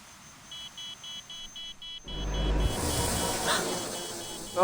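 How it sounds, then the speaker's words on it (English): A device alarm in the game Reverse 1999 gives a repeating electronic beep in even pulses, then a low rumbling surge and swelling noise overtake it, with a short ringing tone at the end. "only to be replaced by the wailing of the device's alarm"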